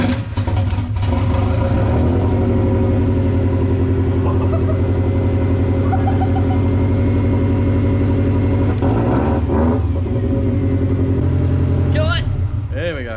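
A loud engine rumbles steadily at idle throughout, with brief revs near the end and voices talking over it.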